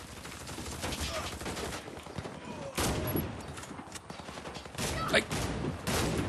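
Sniper rifle and other weapons firing in a Warface free-for-all match, a dense run of sharp shots and bursts at moderate distance, with a few louder close reports standing out.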